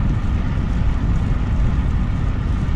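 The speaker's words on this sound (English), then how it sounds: "Getting a little bit of headwind right now" Steady headwind buffeting a rider on a bicycle fitted with SuperTeam S-All Carbon Evo D28 carbon wheels, a continuous loud low roar of wind over the microphone with no pauses and no talk.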